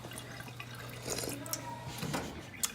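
A small water fountain running: a soft, continuous trickle with scattered drips and splashes, fairly close, under a faint low hum, with no talk.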